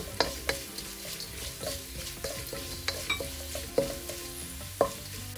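Curry leaves and red chilli flakes sizzling in hot oil, with steady frying crackle and repeated close stirring scrapes in the pan.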